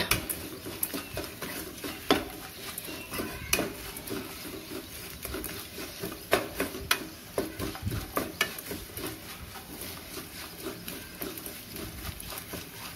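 Coconut rice is stirred in a pan with a metal spoon, giving a long run of irregular scrapes, clinks and soft knocks, close and moderately loud, with no voices.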